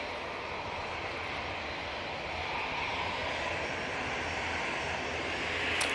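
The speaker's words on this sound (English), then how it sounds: "EasyJet now coming on." An easyJet airliner's jet engines hum steadily on a runway at Manchester Airport, a distant, even roar that swells slightly toward the end, with no voices.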